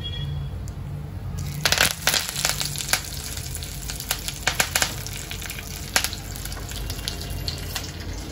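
Mustard seeds and curry leaves hit hot oil in a pan for a tempering and set off a loud, steady sizzle, with sharp crackles and pops scattered through it and no talking.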